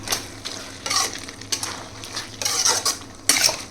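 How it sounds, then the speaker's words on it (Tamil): Goat intestine curry with grated coconut is stirred in a pan, a spoon scraping and clanking against the metal in repeated close strokes over a steady low sizzle. "லாஸ்ட்டாக ஒரு கிளறு கிளறிட்டு ஆஃப் பண்ணிட வேண்டியதுதான்"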